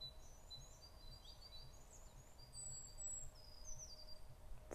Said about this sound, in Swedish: Fåglarna.